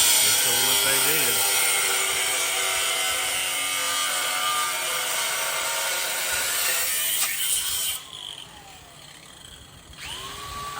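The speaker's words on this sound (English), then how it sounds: "you got your handy dandy DeWalt grinder right there" DeWalt angle grinder cuts with a loud, continuous high-pitched whine that shifts as the load changes, then winds down toward the end, with voices talking over it.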